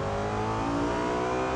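A Koenigsegg CC850 in a racing video game revs hard with its BMW M3 GTS-derived engine sound, a loud continuous droning roar holding steady throughout without voices.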